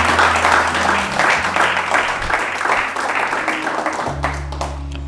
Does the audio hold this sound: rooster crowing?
no